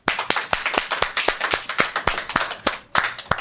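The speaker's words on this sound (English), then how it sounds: "now let's give a big round of applause for all of our actors." Sparse, rhythmic clapping from a small audience applauding actors after a Bible-story skit, with sharp individual claps roughly every quarter second, fairly close and with no talking.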